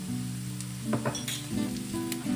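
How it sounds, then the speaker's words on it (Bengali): Fried onions and a spice paste hit hot oil in a pan for pav bhaji, giving a loud, steady sizzle with a few quick stirring scrapes and clinks. "পেঁয়াজটা ভাজা হয়ে গেছে খুব ভালো করে এবার এই যে পেস্টটা বানিয়ে রেখেছিলাম এই পেস্টটা পুরোটা দিয়ে দিলাম"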